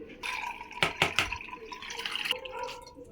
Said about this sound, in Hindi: अब हम इसको किसी छलनी वाला पॉट लेंगे और इसका पानी जो है ये बिल्कुल ड्रेन कर लेंगे